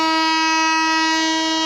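The 12604 Chennai SF Express sounds a steady, loud, sustained horn tone at Nalgonda station, continuous and unbroken throughout.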